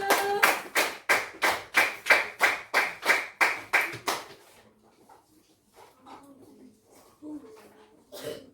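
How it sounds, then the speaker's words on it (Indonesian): Children in a classroom clapping hands for group one: about a dozen loud, rhythmic unison claps in a steady beat, then scattered quieter sounds and voices. "tepuk tangan untuk kelompok satu."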